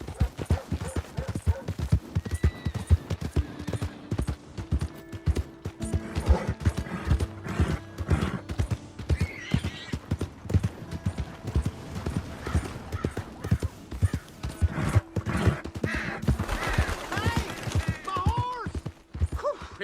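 Horse hooves clip-clop steadily throughout a Red Dead Redemption 2 scene, a continuous rhythmic trot under a Western game soundscape, with voices talking over parts of it and a brief whinny.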